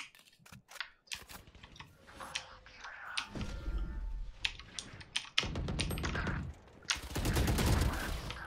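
Gunfire in the shooter video game Valorant crackles in quick bursts and single shots, mixed with clattering keyboard and mouse clicks, growing into a dense volley near the end.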